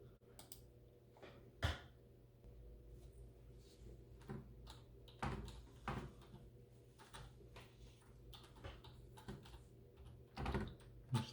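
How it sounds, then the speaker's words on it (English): Fingers type a title on a computer keyboard, giving soft, scattered key clicks with uneven gaps, quiet and close against a faint room hum. "Just type in your title"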